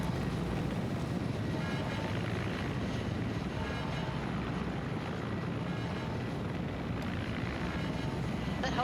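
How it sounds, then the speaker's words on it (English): A helicopter in a video game drones steadily as it comes in to land, a dense, continuous rotor and engine rumble held at an even loudness throughout, with no voices. "Is that helicopter coming in for a landing?"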